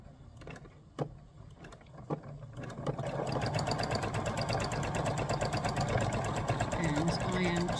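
A sewing machine free-motion stitches over a hole in scrap fabric, starting with a few separate clicks and thumps, then settling into a fast, steady mechanical whir of stitching, close by, with a voice talking.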